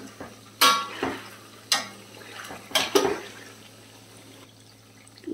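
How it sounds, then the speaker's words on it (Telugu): A spoon stirs chicken in a pot for chicken pickle, giving several sharp scrapes and clinks against the metal, spaced irregularly over a quiet background. "ఈ లోపల చికెన్ ఒకసారి కలుపుకుందాం"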